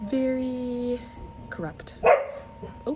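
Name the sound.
dogs barking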